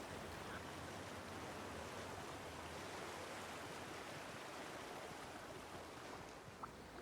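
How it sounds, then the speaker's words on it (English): Steady, continuous rushing of a small stream in the video game Monster Hunter, a broadband watery hiss that holds even and close throughout with no talking. "This little stream runs quite a distance through the map"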